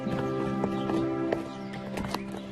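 A horse whinnies while its hooves clop at a steady walking pace close by, the neigh standing out clearly above the footfalls.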